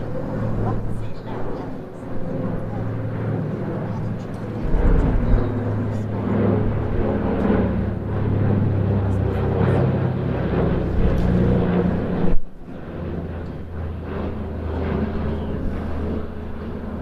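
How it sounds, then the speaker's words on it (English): A Consolidated PBY-5A Catalina amphibious aircraft with tricycle wheeled undercarriage passes at an air display in Jersey, its steady low piston-engine drone continuous throughout beneath a commentator's running talk. "Here comes the consolidated PBY-5A Catalina from Plain Sailing"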